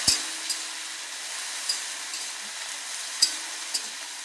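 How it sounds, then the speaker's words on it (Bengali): Taro stolons frying in a pan, a continuous close sizzle with a few sharp scrapes and taps as they are stirred, and no speech. "এবার লতিটা দিয়ে দেবো।"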